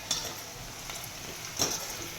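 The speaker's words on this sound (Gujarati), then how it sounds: "બીજી વાર જેટલો બાકી હતો એટલો ભીંડો આપણે નાખી દીધો છે તળવા માટે" Okra (bhindi) deep frying in oil, a soft continuous sizzle with a few brief utensil clinks and stirring scrapes, close by but quiet.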